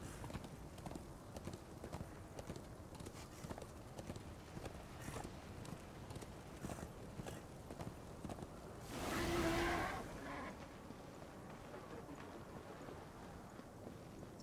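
Horse hooves galloping in Darksiders 2, a rapid continuous clip-clop rhythm running steadily throughout at moderate volume, briefly covered by a louder whoosh midway.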